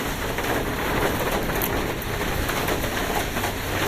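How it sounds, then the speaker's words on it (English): Heavy rain pours steadily onto the roof of a shade house, a dense, continuous hiss and patter heard from inside, loud and unbroken throughout with no talking. "it's raining in here as well, as much as it's raining outside"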